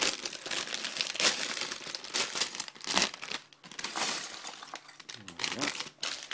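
Plastic LEGO parts bags are torn open and crinkled right up close, producing loud bursts of rustling and crackling in uneven waves, with no voices.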